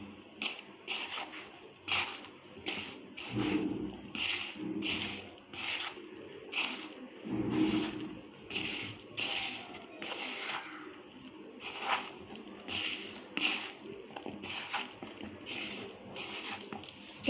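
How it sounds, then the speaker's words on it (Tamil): Cauliflower florets squish and rustle as a hand mixes them with cornflour, rice flour and masala, giving repeated soft wet squelches in a steady rhythm, close and fairly quiet. "இப்போ இதை நம்ம கலந்து விட்டுக்கலாம்."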